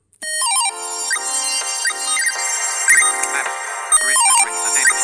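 A phone ringtone plays bright, chirpy electronic tones in quick runs and trills that imitate birdsong, loud and close, with no voices around it.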